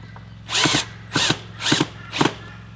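A cordless drill drives screws to fix a garden tap onto timber: four short, loud bursts of motor whine, each about a third of a second, with brief pauses between, close by.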